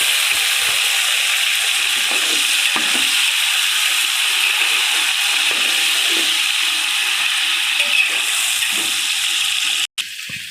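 Steady, close sizzling of tomatoes frying in a pan of golden-browned onions for mutton biryani, with a constant hiss throughout and a brief clatter near the end.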